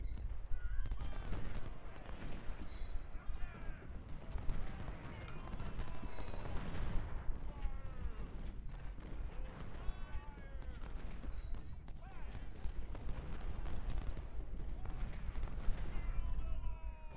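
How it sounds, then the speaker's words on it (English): Artillery bombardment in Ultimate General: Civil War, with constant booms and crackling volleys of cannon and rifle fire layered densely over one another, steady and fairly loud, and someone speaking over the battle. "Both sides are just bombarding each other with artillery like crazy."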